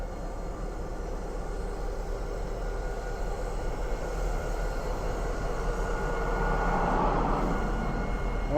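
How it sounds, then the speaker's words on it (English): Union Pacific train running with a steady, rumbling wash of rail noise at a moderate distance, swelling slightly toward the end, with no voices. "Oh, it's making train noises."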